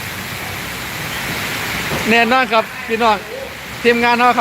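Steady, loud rain falls on a motorcycle workshop yard, a continuous hiss throughout, with someone talking over it in the second half.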